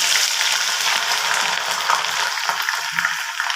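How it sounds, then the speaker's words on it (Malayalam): Finely chopped ginger sizzling in hot sesame oil while preparing a Kerala fish pickle, a steady dense crackle and spit, close and fairly loud, with no voices. "ഇഞ്ചി ചെറുതായിട്ട് അരിഞ്ഞു വെച്ചിരിക്കുന്നത് വറുത്തെടുക്കാം."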